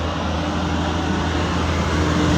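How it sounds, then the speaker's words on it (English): Truck driving fast along a road in Yellowstone National Park, a steady, loud roar of engine and tyre noise that swells slightly as it closes in over a couple of seconds, heard alone without speech. "Here comes the truck."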